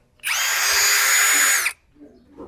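Ingco impact drill running alone at close range, a loud steady high whine lasting about a second and a half before cutting off, followed by faint handling noise.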